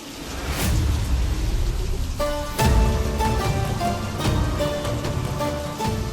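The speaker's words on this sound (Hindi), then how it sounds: "सुपर आंटी ने कराई आसमान से अमृत की बारिश" Steady rain pours down from the sky in a broad, continuous hiss, with a few louder bursts and faint tonal sounds mixed in beneath it.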